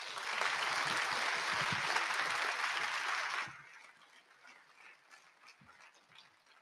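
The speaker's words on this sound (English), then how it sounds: "please join me in giving a very warm round of applause to Ms. Janet Henry." A conference audience applauds to welcome a speaker at a World Economic Forum event, a dense burst of clapping that stops abruptly after a few seconds, leaving faint room noise.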